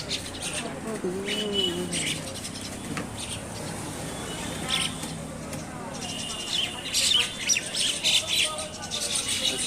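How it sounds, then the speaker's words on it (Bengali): Birds at Boalia Bazar market in Ullapara chirp, squawk and coo in a busy mix, near and far, while people talk over the ongoing market bustle. "প্রতিদিন অনেক পাখি হয়,"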